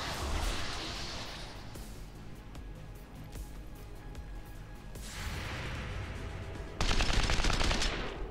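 Rapid gunfire from an overwatch shot in the turn-based strategy game XCOM 2, a sustained loud burst of shots that grows sharper and heavier near the end, with no talking.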